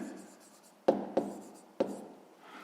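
A pen writing down an answer to a fifth-grade math exercise gives a few quiet scratches and three sharp taps, with a faint voice at the start.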